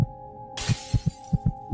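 A glass-breaking sound effect: a sharp shattering crash that bursts in and rings briefly over a run of low, evenly spaced thumps.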